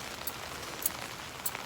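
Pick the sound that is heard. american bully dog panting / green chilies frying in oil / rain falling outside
rain falling outside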